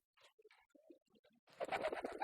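Pigeons in a loft, some drinking water and sitting on eggs, give soft scattered coos and calls that swell into a dense, louder burst of cooing and wing rustle at the end.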